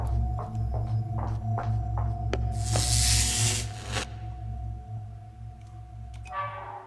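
A door opening in The Memory, a horror video game, comes through as a loud burst of broadband hiss lasting about a second and a half, over a steady low ambient hum, with faint clicks before it.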